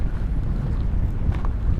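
Wind gusting steadily across a microphone beside a lake jetty, a continuous low rumble and buffeting outdoors, with no voices.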